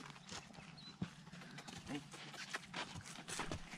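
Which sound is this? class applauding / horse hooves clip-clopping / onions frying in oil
horse hooves clip-clopping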